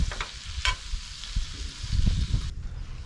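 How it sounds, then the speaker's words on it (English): Butter and garlic sizzle in a pan with yabbies from the Australian outback, a crackling fry close up with stirring scrapes and spatters, no talk. "Now I've got all that butter nice and sizzling. What I'm gonna do is tip all our yabbies in there."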